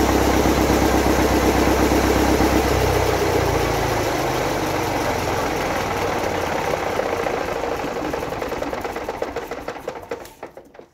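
A repaired Gardner 4LW diesel engine with a heavy flywheel runs with a rhythmic knocking chug that gradually slows, fades and finally stops, heard close with no talk.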